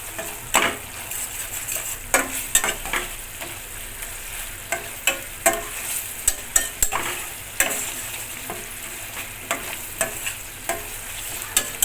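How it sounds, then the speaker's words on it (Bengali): Katla fish masala with yogurt and salt fries in a pan while being stirred, a steady close sizzle punctuated by frequent sharp spatula scrapes and clacks against the pan, with no talk. "ভালো করে কষাইতে রাখছি"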